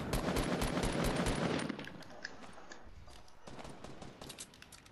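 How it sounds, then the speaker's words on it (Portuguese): Rapid automatic rifle gunfire from the video game Fortnite, a loud dense burst of shots followed by quieter scattered single shots and further bursts. "Eu só tô acertando de rifle."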